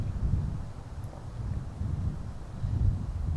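Steady wind blows across an open hole at the final round of the King of the Lake tournament, a continuous low rushing and buffeting with faint rustling of trees and no voices.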